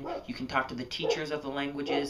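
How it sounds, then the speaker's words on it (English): Dogs bark and yip outside, fairly near, in short repeated bursts underneath a person talking steadily indoors. "sorry about the dogs outside barking"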